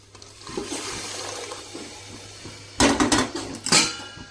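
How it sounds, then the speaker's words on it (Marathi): Cooked dal being poured into a pot gives a soft wet slosh, followed by two louder, splashy bursts of liquid with metallic pot clinks near the end. "आता ही डाळ आहे ना आपण शिजवलेली ही टाकून घेऊया"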